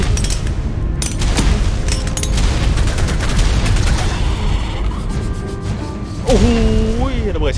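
Loud, dense explosions and gunfire-like booms from the ARK: Scorched Earth video game, continuous chaotic blasts and thuds, with a rising whine near the end.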